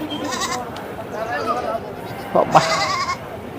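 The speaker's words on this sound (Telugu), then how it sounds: "ఇక్కడ వచ్చేసి మనకి మేకలు ఉన్నాయి వాటి పిల్లలు కూడా ఉన్నాయి" Goats bleat a couple of times, short wavering cries at moderate distance, amid background chatter and people talking at the Pileru sheep and goat market in India.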